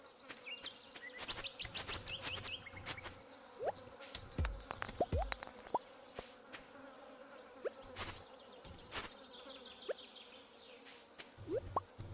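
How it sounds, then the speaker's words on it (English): Buzzing bees in Stardew Valley Expanded, a steady insect drone running throughout with scattered game blips and chirps layered over it, close and fairly loud, no talking. "To fight the bees."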